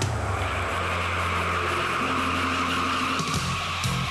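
Car tires screech under hard braking during a brake pad stopping test, a sustained tonal squeal with shifting pitch lasting several seconds over a background engine rumble.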